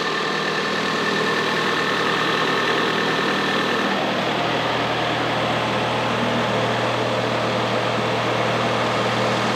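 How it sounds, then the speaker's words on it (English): A loud boat engine idles steadily with a deep, rough rumble and constant rattling vibration throughout from worn rubber mountings, no voices present. "it's shaking quite a lot, the engine"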